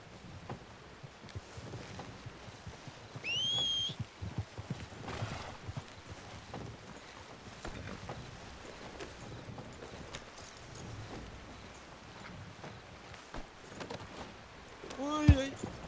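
Hooves of a ridden horse clip-clop steadily in a western roleplay video game, a moderate rhythmic patter heard under people chatting, with a brief whistle-like tone near the end.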